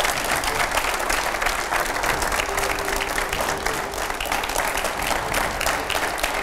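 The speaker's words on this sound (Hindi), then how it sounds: "स्वागत है जोरदार तालियों से।" An audience in a television studio breaks into strong, sustained applause to welcome a farmer leader onto the stage, dense clapping filling the whole stretch at moderate loudness.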